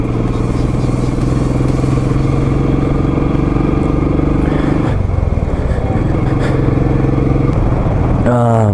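A Royal Enfield Classic 500 motorcycle thumps steadily as it climbs a winter road, its loud, close single-cylinder engine note holding, then shifting pitch partway through, with a brief rising rev near the end.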